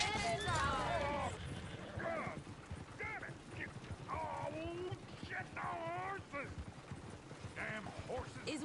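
Horse hooves clip-clop faintly and steadily in Red Dead Redemption 2, a soft rhythmic plodding heard under people talking throughout.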